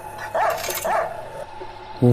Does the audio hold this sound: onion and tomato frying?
no